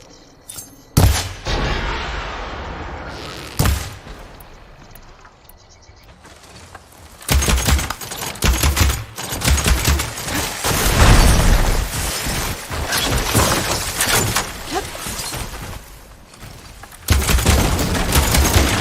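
Heavy boulders crash and tumble down in Horizon Forbidden West after a support beam is shot, loud booming impacts and rumbling debris building into a sustained roar near the end.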